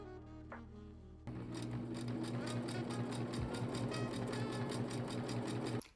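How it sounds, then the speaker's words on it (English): A sewing machine runs a straight stitch on pink trousers, starting after a second of quiet room tone and then whirring steadily and close with a fast mechanical rhythm for about five seconds before stopping. "just sew a little straight stitch down it"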